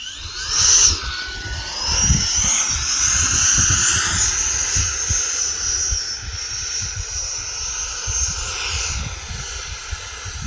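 An E-flite 80mm F-16 Thunderbird RC electric ducted-fan jet flies overhead, giving a loud, sustained high-pitched whine that rises and falls slightly as it passes, with wind rumble underneath.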